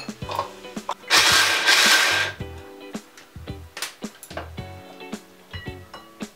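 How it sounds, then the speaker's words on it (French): A blender whirs loudly for about a second while mixing ginger and garlic for a Peking duck filling, followed by scattered clinks and taps of kitchen utensils. "nous allons mixer le tout"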